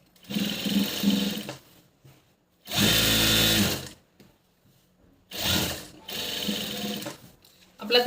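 Sewing machine stitching a stiff blouse during puff-sleeve fitting, running in three separate bursts of steady mechanical whirring, each one to two seconds long, with quiet pauses between them and no voices.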